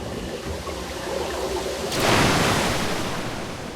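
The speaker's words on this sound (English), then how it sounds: "The river almost got me this time." River water rushes in the video game Metro: Last Light, a steady, dense roar of flowing water that swells louder partway through and stays heavy to the end.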